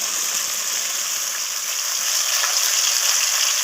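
Tomato, green chilli, coriander and ginger spice paste hits hot tempering oil, producing a loud, dense, continuous hiss-like sizzle that stays even throughout.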